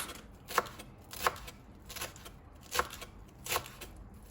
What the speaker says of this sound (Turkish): yarım deste maydanozumuzu yine aynı şekilde marol gibi ince ince doğramaya başlıyoruz.